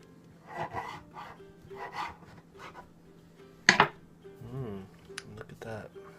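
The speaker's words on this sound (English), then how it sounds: "It's a nice sawing sound." A knife saws through the crust of a homemade sourdough loaf in a series of rhythmic, rasping strokes, close and fairly faint, with a dog barking and brief kitchen clatter.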